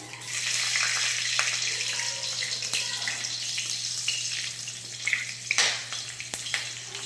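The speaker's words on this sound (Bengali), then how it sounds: "এই একই তেলের উপরে ফোড়নে দিয়ে দিলাম কালো জিরে, তারপর দিয়ে দিলাম একটা কাঁচা লঙ্কা ফাটিয়ে" Black cumin and a split green chili sizzle in hot oil, a bright crackling hiss that stays steady with scattered sharp pops and spatters.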